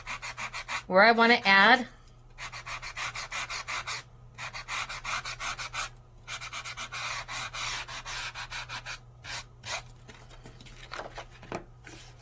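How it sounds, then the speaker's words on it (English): Embossed Revealz paper sanded with a sanding grit, giving repeated rasping strokes that come up close and loud, then run on as shorter scratching passes. The level holds fairly steady across the clip. "all I have to do is come in and start to sand"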